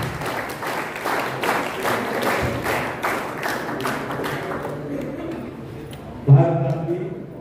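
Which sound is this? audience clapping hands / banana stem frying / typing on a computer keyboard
audience clapping hands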